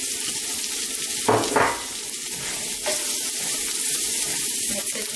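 Garlic and thyme sizzle steadily in a hot pan while a utensil stirs through them, with a few louder scraping clatters near the start and an even frying hiss throughout, no voices.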